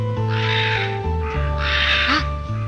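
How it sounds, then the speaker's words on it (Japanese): Cawing of a crow in a mountain village in Hida, heard as two harsh bursts over a loud, steady anime soundtrack of music and a low drone. "あいつオイラの友達のカラスだ。"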